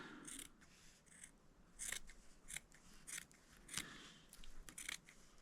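Quiet, close scissors snip through fabric in a series of crisp cuts, irregularly spaced with short pauses between them.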